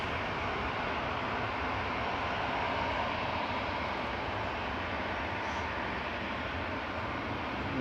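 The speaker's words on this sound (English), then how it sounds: "Qatar from Doha with flight 21 just rolling out." Qatar Airways Boeing 787-9 from Doha rolling out on the runway after landing at Manchester Airport, a steady broad jet roar with engine rumble holding at moderate distance throughout, no voices.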